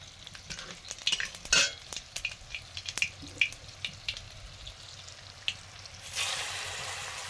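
Nigella seeds dropped into hot oil left from frying fish, crackling and popping in quick irregular bursts with stirring clatter, then a louder sustained hiss near the end, close and without talk.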